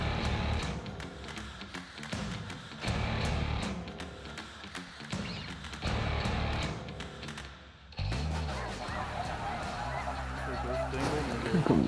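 Snow geese honking over the Saskatchewan prairie during a hunt, a dense, continuous chorus of many birds, nearby and loud, with honks overlapping in rising and falling waves.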